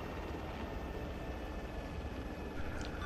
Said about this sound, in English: That's that friendly helicopter, right?